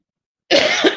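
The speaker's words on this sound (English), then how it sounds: "And I do certainly apologize for the three coughs." A man gives a single harsh cough after a moment of silence, close and fairly loud, with no other sound around it.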